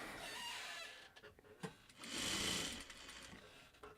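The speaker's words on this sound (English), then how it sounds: "Let's get sewing." A sewing machine running in quick whirring bursts with short stops and clicks between them, close and steady, with no talk.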